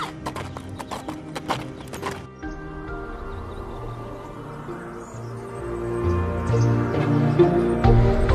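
Horse hooves clip-clop in a quick, regular rhythm for about two seconds, followed by a horse's whinny and sustained tonal sounds, in an animated film about the life of Rumi.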